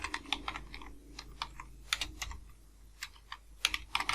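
Typing on a computer keyboard while entering data into an Excel sheet: close, quick irregular key clicks in bursts with a short pause partway through.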